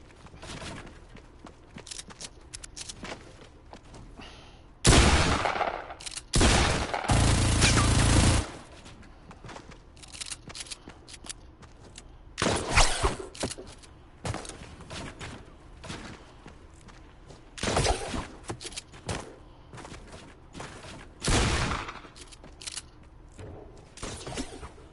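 P90 submachine gun fire in a video game, several loud bursts of rapid shots standing out from quieter in-game ambience and scattered clicks.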